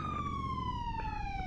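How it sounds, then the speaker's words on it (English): A loud wailing siren at a Southwest Florida car meet, its steady tone sliding slowly downward over a dense rumble of engines and crowd. "Yo, turn off the sirens."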